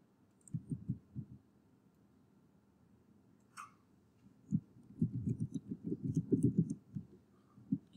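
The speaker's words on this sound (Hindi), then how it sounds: "कीबोर्ड की आवाज आ रही है मुझे." Computer keyboard typing comes in short bursts of quick, soft keystrokes, a cluster near the start, then a longer run of clicks, fairly close and without talk.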